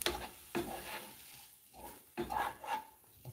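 Garlic is stirred in a hot pan, with a few short scraping strokes of a utensil across the pan surface, quiet and close, with no talk.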